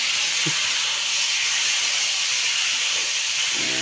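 Chicken meat sizzles loudly as it is stirred in a hot pan, making a dense, steady hiss close by with a couple of faint utensil clinks and no talking.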